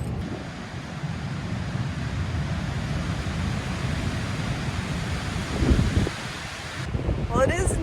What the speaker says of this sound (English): It is really windy and it's getting colder